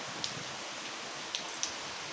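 Heavy rain pours close by near a home in Hyderabad, a constant hiss broken by a few sharp, distinct drips striking a surface.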